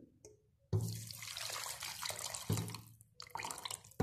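Milk pours into a blender jar already holding sugar and chocolate mix for a chocolate shake, a steady close splashing stream that starts abruptly after a brief quiet and surges a couple of times, with no talk.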